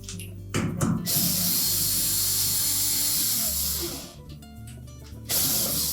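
Bolts are tightened on a Whirlpool washer transmission during a transmission seal repair, with close ratcheting clicks and bursts of tool noise over a steady hiss, fairly loud with no talk.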